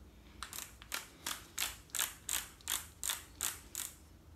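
A torque wrench ratcheting on engine case nuts during a motor short-block assembly, about ten evenly spaced crisp metallic clicking pulls, close and fairly quiet, with no talking.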